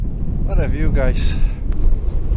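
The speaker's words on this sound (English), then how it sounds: "Very windy actually as well." Strong wind gusting across the microphone on an exposed mountain hike up Mount Brandon in Ireland in late winter, a steady low rumble throughout with a voice speaking briefly over it.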